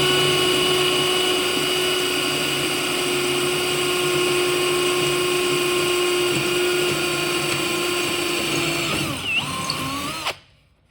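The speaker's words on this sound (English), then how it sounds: "I'm going to drill out this hole" A power drill whines steadily at high speed, loud and close, drilling out a hole in a Mopar A-body hood hinge, its pitch wavering slightly before it winds down and stops near the end.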